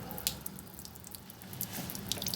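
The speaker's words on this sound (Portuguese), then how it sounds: "tô escutando barulho de água dentro do carro" Water trapped inside a car door sloshing and dripping as the door is moved, quiet close wet splashes and drips in irregular bursts, no talking.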